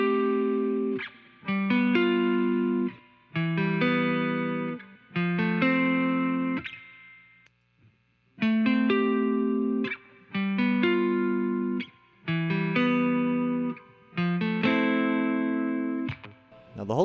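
An electric guitar runs through a Fender Reverb unit and a Holy Grail reverb pedal, chasing a signature tone: repeated strummed chords in steady phrases with long, thick reverb tails between short pauses, and no talking.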